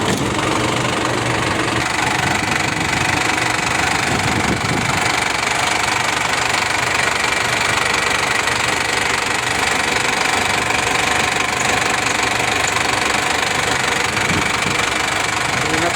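A vehicle engine idles steadily and loudly up close, with a continuous knocking vibration that holds unchanged for the whole stretch and no talking.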